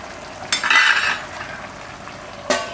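A lid is set over a pan of cooking vegetables with a close metallic clatter and scrape, followed by a second short clink a couple of seconds later against a quiet background.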